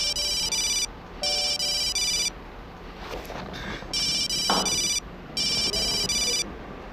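Telephone rings loudly in four electronic bursts, each about a second long with short gaps, over faint background sound and a brief muffled voice.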